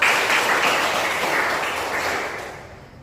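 A classroom of students clapping together, a dense loud patter of applause that starts at full strength and fades away over about three seconds.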